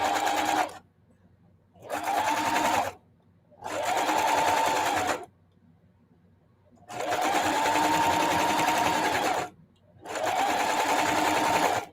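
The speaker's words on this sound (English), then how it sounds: "This will be a quickie because it does not need a whole lot of stitching." A sewing machine runs in five loud bursts of steady stitching with short pauses between, sewing along the outer edges of a holiday wall hanging.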